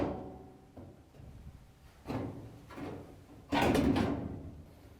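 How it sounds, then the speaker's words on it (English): A washing machine's front panel on a Frigidaire/Electrolux washer is pushed down and pulled free, giving several hollow thumps and clunks of sheet metal releasing from its tabs, with the loudest knock near the end. "we have to push the front panel down so we can release the four tabs and pull it out"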